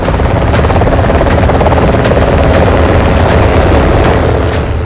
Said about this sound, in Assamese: ভাৰতীয় বায়ুসেনাৰ অন্য এক শক্তি AH-64 আপাচি হেলিকপ্টাৰ।